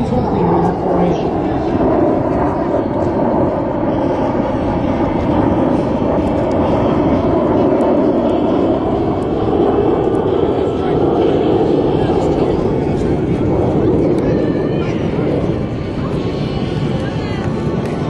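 Naval aviation aircraft fly over in formation during a centennial aerial parade, producing a loud, sustained engine roar that fills the whole stretch, with a voice talking underneath.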